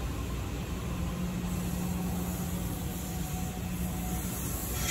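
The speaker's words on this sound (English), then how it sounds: "Deutz 5-cylinder diesel engine." A Deutz five-cylinder diesel engine on a drill rig idles with a steady, fairly quiet rumble and a faint constant hum, with no voices.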